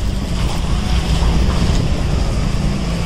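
Natural water rushes steadily at an old Ganesh temple in Malshej Ghat during the monsoon, a loud, continuous broadband roar close to the microphone with wind buffeting mixed in.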